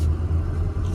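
A 2005 Ford Excursion truck engine with 90,000 miles revs up under acceleration, a steady deep rumble holding close and loud throughout with no voices.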